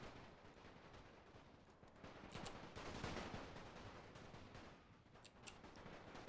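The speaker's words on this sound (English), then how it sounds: "Oh, we are taking quite heavy fire here." Heavy massed gunfire rolls across a Napoleon: Total War battle, a steady crackling fusillade of musket volleys with occasional heavier thumps, continuous and fairly distant, with no talk over it.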